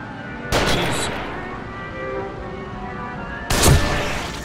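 Two loud, close gunshots about three seconds apart in the survival-horror video game The Evil Within, with a low ambient game drone between them.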